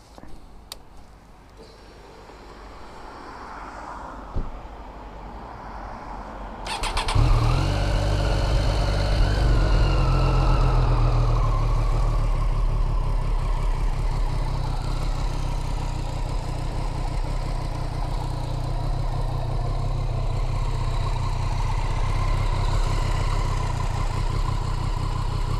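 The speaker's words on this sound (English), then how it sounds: "So let's go give her a start up." A Triumph Street Triple motorcycle cranks and fires after a few seconds of quiet handling noise, then settles into a steady, loud, close idle with a low throbbing rumble that holds to the end.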